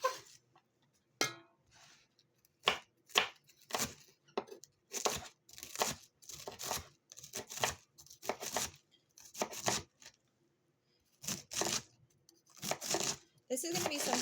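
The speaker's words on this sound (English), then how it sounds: "I enjoy chopping vegetables with a knife" A knife chops cabbage on a board in a home kitchen, giving a series of crisp, crunchy cuts in irregular bursts, some quick and clustered, with short pauses between them.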